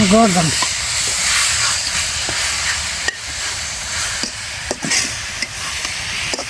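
Spices tempered in hot oil for a Bengali home-cooked dish, a steady hiss and sizzle with stirring clicks and scrapes, heard close up with a voice at the start.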